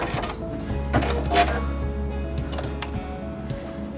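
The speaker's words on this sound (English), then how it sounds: "begin sewing again" A Quantum Stylist 9960 sewing machine stitching an elongated pattern on fabric, giving a steady close mechanical whir with rapid ticking and clattering throughout, without speech.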